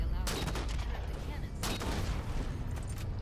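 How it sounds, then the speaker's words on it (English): Gunfire in Halo 4 as enemies are shot, bursts of loud rapid shots with sharp cracks, close and sustained over a steady game background. "when you shoot these guys now in Halo 4, they don't have any pause"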